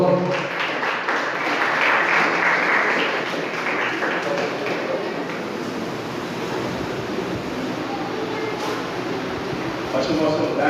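A church congregation applauds during a worship conference, a dense wash of clapping that swells early then settles into a steady, moderately loud patter.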